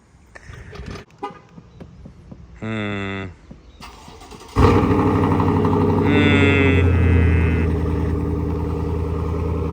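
A BMW E36 drift car starting up, with short bursts and a tonal horn-like blip before the engine catches and settles into a loud, close, steady rumbling idle.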